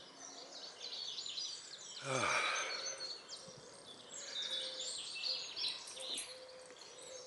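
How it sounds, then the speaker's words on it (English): Birds sing and chirp outdoors at a distance, with high twittering phrases rising and falling over a quiet background, and a brief exclamation from a person partway through. "Beautiful, nice to hear the birds"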